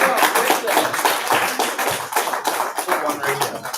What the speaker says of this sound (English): Y'all give your host Aisha a round of applause.